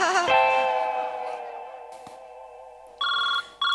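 A phone ringtone rings loudly with a sustained melodic tone, then cuts to a couple of brighter electronic beeps near the end, with no talking over it.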